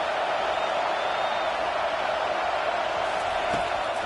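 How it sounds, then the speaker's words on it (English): A packed football stadium crowd at an Army at Michigan game sustains a loud, steady roar on third down, with faint commentary mixed in. "Decibels rising as the crowd gets behind this defense on 3rd down"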